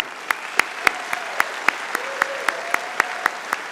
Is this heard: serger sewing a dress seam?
no